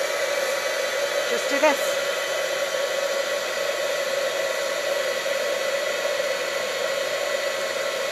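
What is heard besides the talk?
heat embossing tool melting embossing powder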